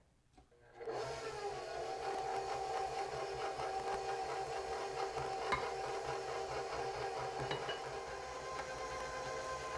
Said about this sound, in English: we're going to beat it on low speed until it comes together